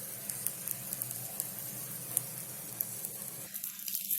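A flipped karandi egg omelette cooks in a hot pan, giving a continuous soft sizzle with small crackles that thins out near the end, with no one talking.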